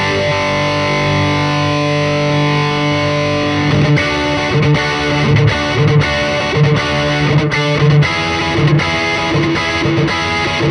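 An electric guitar played through a Neural DSP Quad Cortex with delay and phaser gives loud, sustained distorted chords, then a run of rhythmic strummed hits, all thick with modulated echo and no talking.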